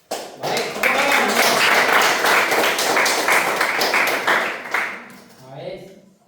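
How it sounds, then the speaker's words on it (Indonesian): Students in a classroom at an Islamic boarding school (pesantren) break into loud, brisk applause that holds steady for several seconds before trailing off, with a voice speaking briefly at the end. "Baik, tepuk tangan."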